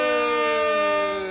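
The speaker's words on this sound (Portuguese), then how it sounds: "Toca a sirene." A loud, steady siren wail holding a rich tone that dips slightly as it fades toward the end.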